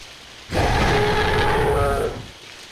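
Rain in the Jurassic Park Hunter Legends video game, a dense steady downpour that swells in suddenly, holds loud for about a second and a half, then cuts back to a faint hiss.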